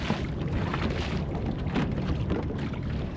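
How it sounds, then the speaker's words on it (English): Strong wind gusts across a river while fishing from a boat, a steady roaring rush and microphone buffeting that fill the whole clip, close and loud with no break. "Very windy out here."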